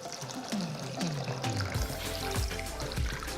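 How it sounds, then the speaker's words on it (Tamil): Water pours steadily into a bowl of rice and lentils for soaking, close by, its pitch rising as it fills, a continuous splashing stream with no talking. "இப்போது நான் தண்ணி ஊற்றி ஊற வச்சிடுறேன்."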